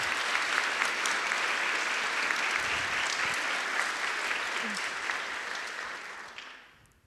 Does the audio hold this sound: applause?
yes